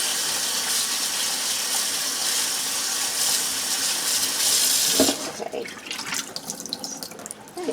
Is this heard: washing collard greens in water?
yes